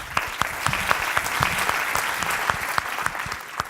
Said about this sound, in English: Let's start with a warm applause of yourself